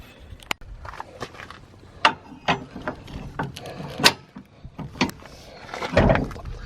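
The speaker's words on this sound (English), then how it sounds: "you want to get that up to get the bind out of your weight distribution hitch" Ratcheting clicks and metallic clunks come from cranking up a weight distribution hitch on a camper, as scattered close knocks and a few longer grinding strains, with no talk.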